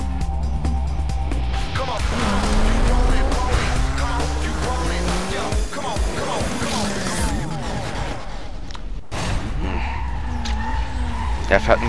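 Racing cars in Need for Speed Most Wanted roar with revving, shifting engines and screeching tire squeal through a circuit race, while someone talks over the steady, loud game sound.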